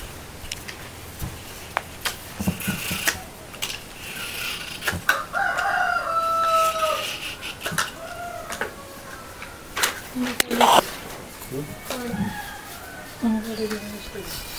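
Chickens kept by a family in Kadtala village, Udupi district, cluck while a rooster crows in drawn-out calls nearby, mixed in with people talking and scattered knocks.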